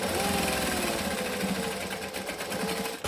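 A sewing machine running steadily while top stitching a seam at a long stitch length, a close, rapid mechanical whir and needle chatter that stops abruptly at the end.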